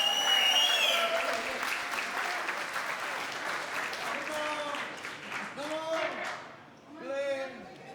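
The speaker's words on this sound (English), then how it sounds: "Let's give him a big round of applause." Wedding guests applauding the father of the bride as he goes to dance with his daughter, steady clapping from a crowd under a host speaking over a microphone, with a singing voice coming in toward the end.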